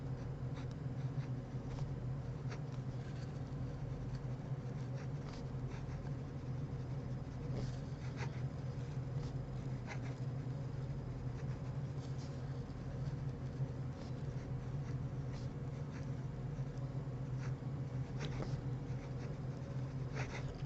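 Quiet scratching of a cheap Moonman M2 fountain pen, a clone model, writing on Clairefontaine paper, with soft continuous nib strokes and small ticks over a low background hum.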